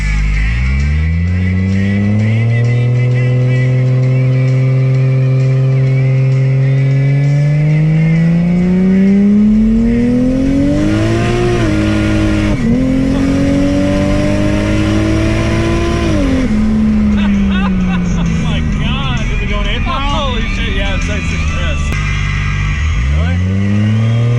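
A turbocharged 2JZ-engined IS300 drives hard, its engine climbing loud and close through repeated revs, with brief airy blow-off valve whooshes as the throttle lifts, and voices talking over the engine.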